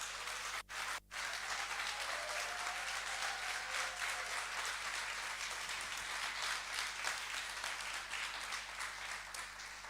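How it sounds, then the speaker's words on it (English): Audience at a civil society and communities side event gives a round of applause for the incoming speaker, steady dense clapping filling the room from start to finish with two brief dips near the beginning. "So a big round of applause"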